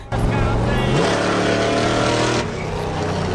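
A car engine roars loudly and steadily, revving up near the start and holding a strong drone before easing off toward the end, with a person talking faintly underneath.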